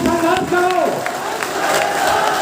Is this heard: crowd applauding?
yes